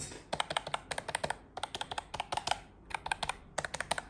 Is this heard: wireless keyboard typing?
yes